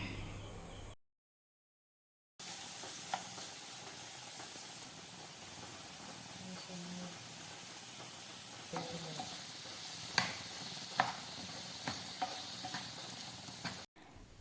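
Prawns and tomato sizzle in a pan for a Kerala-style prawn roast, a steady hiss with scattered stirring clicks and scrapes growing more frequent near the end, after a brief silent gap.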